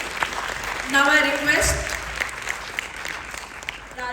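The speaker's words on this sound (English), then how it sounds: "Let us welcome Dr. M.L. Gharote with a big round of applause." Audience applause for a guest speaker at an international yoga conference, a steady wash of clapping heard under a voice over a microphone.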